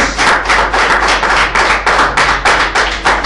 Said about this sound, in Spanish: ¿Cuánto le dan un fuerte aplauso a Jesús por la palabra?